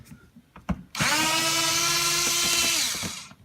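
Power tool spinning out bolts holding a vehicle panel: a few handling clicks, then a loud, close, steady whine lasting about two seconds that winds down, with no talking.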